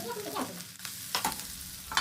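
Meat frying and being stirred in a pan, with a steady sizzle broken by several scraping stir strokes close by and no talking, while bamboo shoot and pork are being cooked.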